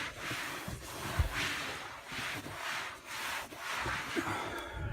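A rag scrubs vinyl boat seat upholstery with MaryKate cleaner, a close, steady back-and-forth rubbing in repeated strokes of about a second each.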